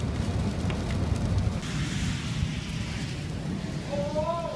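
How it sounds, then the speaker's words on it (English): Steady, dense rain pours down hard during a lightning storm, a constant broadband hiss with no breaks, and a faint tonal sweep near the end. "It's just rain real hard."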